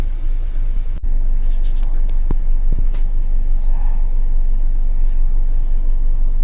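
A Honda Accord with dashboard warning lights pulls away and drives, its engine and road rumble running steady and low after a sharp click, with a few faint knocks from the cabin.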